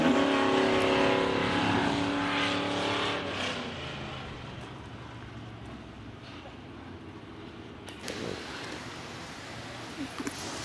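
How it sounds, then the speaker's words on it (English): Wissota Hornets class race cars idle and rumble as they roll out of staging for a heat race at a dirt track, a loud, steady engine drone that eases slightly over time with crowd ambience underneath. "First of 2 heat races getting ready to roll out of staging tonight for the Wissota Hornets."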